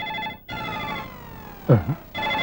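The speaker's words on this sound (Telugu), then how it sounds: "ఫోన్ రింగ్ అవుతుంది అక్కడ" A telephone rings with a bright electronic tone that cuts out briefly and then resumes, with a short vocal sound in the middle of the ringing.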